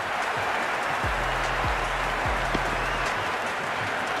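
Stadium crowd cheering a six in the Cricket 26 video game, a dense continuous roar of applause and crowd noise at constant loudness, with low engine-like tonal sweeps underneath.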